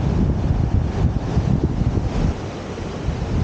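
Steady wind buffeting the microphone over rumbling surf at a beach in Zambujeira, Portugal, with a rising tide and small, unimpressive waves; loud, continuous low roar with no voices.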